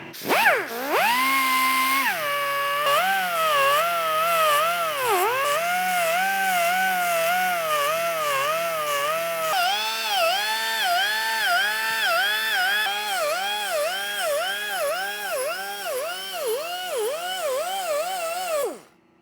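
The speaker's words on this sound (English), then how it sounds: "I'm sanding it so that the braze will stick." A belt sander whines continuously at high speed, its pitch wavering up and down in steady cycles as it grinds against a vintage Ritchey bicycle frame before brazing, loud and close.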